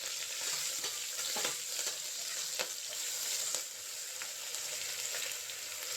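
Green chillies, ginger, garlic, cinnamon and cloves sizzle steadily in hot oil, a continuous bright crackle with occasional sharper pops and stirring scrapes, close and alone without talk.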